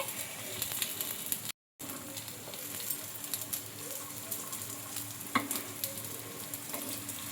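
Stuffed flatbread fries in oil on a hot pan with a steady close sizzle and soft crackle, broken by a brief dropout and a faint scrape near the end.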